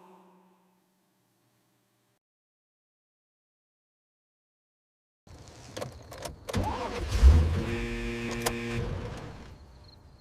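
A 2012 Lamborghini Gallardo, abandoned and unstarted for years, is cranked after several seconds of silence, the starter whirring and churning at close range for about five seconds without the engine catching.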